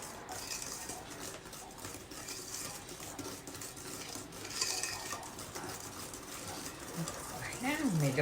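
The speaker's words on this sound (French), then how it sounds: "Voilà, on mélange convenablement." A spoon or whisk stirs pineapple upside-down cake batter in a bowl with soft scraping and clinks against the sides, while a person talks throughout and faint birdsong sounds in the background.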